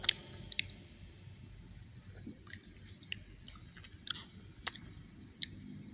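A macaron is chewed close to the microphone, with soft squishy bites and a few sharp crisp clicks spread over a quiet background.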